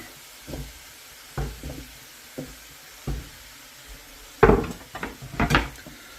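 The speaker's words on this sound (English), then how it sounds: "give this a stir" Beef stew being stirred in a large pan: soft scraping knocks at first, then louder clattering scrapes toward the end over a faint sizzle, close and without voices.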